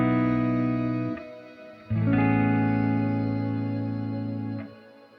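Sustained guitar chords run through the reverb of a Line 6 Pod GO processor, ringing out with long smooth tails, briefly dropping away before a new chord swells in and fades slowly, with no talking.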